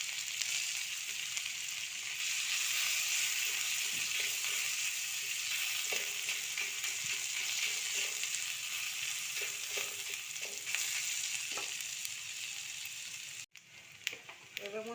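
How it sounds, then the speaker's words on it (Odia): Spices, chili and garlic crackle in hot oil while greens are tempered, giving a steady close sizzle throughout with a few faint clicks, a brief scrape near the end and a faint voice. "ଏବେ ମୁଁ ଶାଗକୁ ବଘାରିବି। ସେଥିରେ ଫୁଟଣ ପକାଇଦେଲି, ଲଙ୍କା ପକାଇଦେଲି,"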